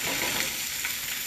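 Greens sautéing in a hot pan give a steady, close sizzle and hiss throughout, with no talking.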